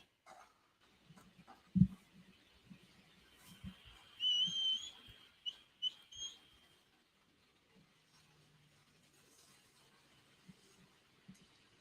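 A short, faint two-note whistle rises briefly out of quiet background noise, with soft clicks and thumps around it.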